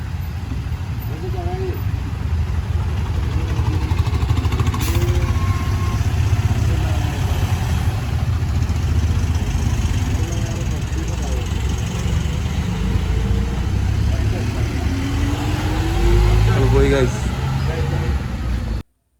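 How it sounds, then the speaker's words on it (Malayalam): A bus pulls in with its engine running, a low rumbling drone that grows slightly louder toward the end, heard under someone talking. "ദേ ഇതാ വരുന്നതാണ് എൻ്റെ ബസ് ബസ് വരുന്നുണ്ട്"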